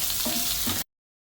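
Chopped onions sizzling in hot oil in a pan while cooking dry chilli chicken, a steady frying hiss with faint stirring that cuts off abruptly.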